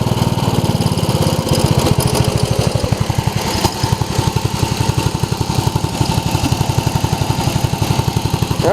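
A Craftsman riding mower's engine running steadily up close, a loud, even, rapid thumping idle with a rattly clatter that holds for the whole stretch.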